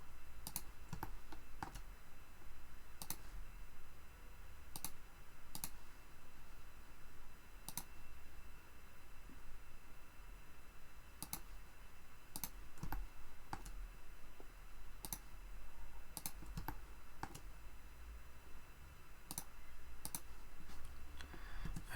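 Sharp, close computer mouse clicks come in sparse, irregular bursts over a faint steady hum while walls are drawn in SketchUp, with no talking.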